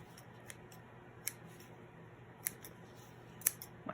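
Dull scissors snip paper four or five times, each a crisp metallic click spaced irregularly apart, quiet over a soft background hiss.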